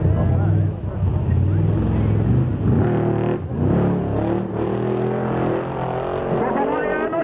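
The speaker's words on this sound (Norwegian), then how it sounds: "Joakim Knudsen hadde motoren i gang hele veien." A Formula Offroad car engine revs hard and wavers in pitch, loud and close, while a commentator talks over it throughout.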